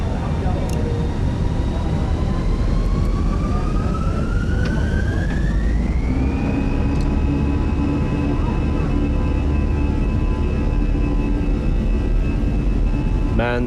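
Fenix A320 airliner taking off in Microsoft Flight Simulator 2020, jet engines spooling up with a rising whine that levels into a steady, loud high-pitched roar over rumble.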